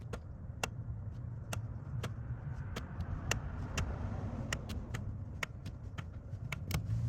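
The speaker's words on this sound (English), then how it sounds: "we're going to apply the parking brake. And a properly adjusted parking brake, you should get 5 to 7 clicks from the parking brake pedal." Parking brake pedal on a truck being pressed down, giving a long run of sharp, evenly spaced ratchet clicks over a low steady rumble.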